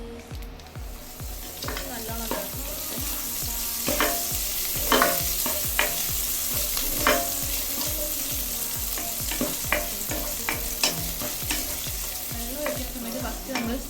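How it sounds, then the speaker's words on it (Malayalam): Dalda hydrogenated fat heating in a hot pan for Malabar biryani: a steady, close sizzle runs throughout, punctuated by regular metallic stirring scrapes, and a voice briefly speaks a single word. "പാത്രം ചൂടായി വന്നിട്ട് ഇതിലേക്ക് നമുക്ക് ഡാൽഡ ഒഴിച്ചു കൊടുക്കാം."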